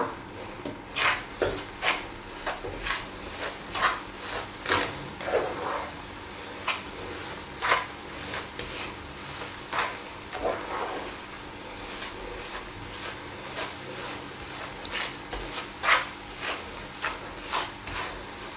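A utensil stirs a barfi mixture of dry milk and ground sugar in a pan over low flame, making steady rhythmic scraping strokes with faint sizzling underneath, close and fairly soft.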